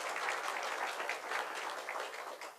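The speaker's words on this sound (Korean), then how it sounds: "우리 박완수 지사님께 다시 한번 큰 박수 부탁드리겠습니다" Audience applause for Governor Park Wan-su at a regional policy debate in a Changwon convention center hall: dense, steady clapping from a sizable crowd that holds for a few seconds, then starts to thin.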